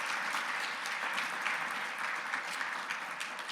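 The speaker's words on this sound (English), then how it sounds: "If we could give Aaron a round of applause, please." A lecture audience applauding steadily, dense clapping at an even level throughout, with no voices over it.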